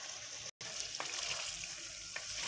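Chicken liver frying with a garlic, tomato and green chili paste is stirred in the pan, a steady close sizzle with soft scraping strokes of the spoon and one short break.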